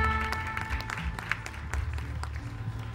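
An outdoor festival crowd at Selvamonos 2018 applauds volunteers and workers between songs, scattered clapping blending with lingering stage music tones and a low hum, moderately loud.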